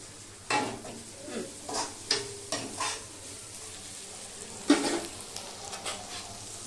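Onions frying and being stirred in a pan for chicken curry, a soft steady sizzle broken by several scraping stirs of a spoon against the pot, close and fairly quiet, no talking.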